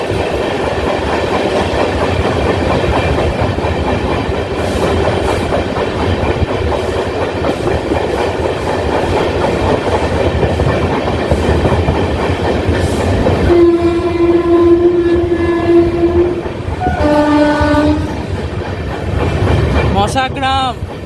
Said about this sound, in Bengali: টিএসআর মেনটেন করতে করতে আমাদের ট্রেন ক্রস করছে মশাগ্রাম